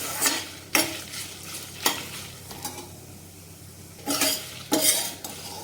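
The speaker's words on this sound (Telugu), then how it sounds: "ఈ ఎండుమిర్చిని కూడా కొంచెం సేపు అయితే ఫ్రై చేసుకోవాలి" Dried red chillies fry in a pan with a quiet, steady sizzle. A spatula scrapes and knocks against the metal in repeated bursts of stirring, close by, with no talk.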